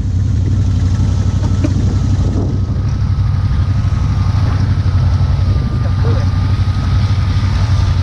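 An ATV engine under throttle while stuck in thick mud, a loud steady low rumbling drone close by, with faint voices in the background.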